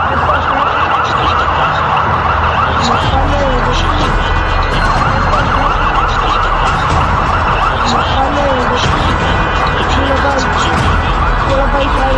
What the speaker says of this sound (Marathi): पूर्ण रस्त्यांवरती असंख्य अँब्युलन्सचे सायरन वाजत असल्याचा व्हिडिओ